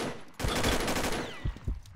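Automatic gunfire in the online shooter Combat Arms, a rapid, loud burst of shots followed by a couple of short trailing shots.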